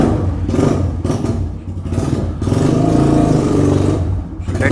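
A Hero Impulse motorcycle engine runs steadily after its carburetor was cleaned, a loud continuous low rumble with a few clattering thumps and slight swells in revs, no talk.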